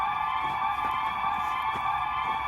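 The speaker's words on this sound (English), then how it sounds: "Not another siren." A siren wails continuously at a steady high pitch, loud and sustained throughout with no speech.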